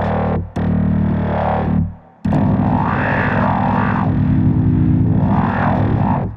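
Aalto software synthesizer played through a Sensel Morph pressure-sensitive pad using MPE: loud, thick, distorted sustained tones with a brief gap between notes, swelling and shifting in timbre, heard alone.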